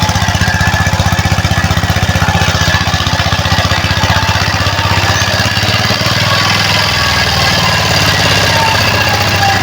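A loud, continuous engine chugging with a rapid mechanical rhythm from a tractor with a rotary tiller working soil close by, no voices.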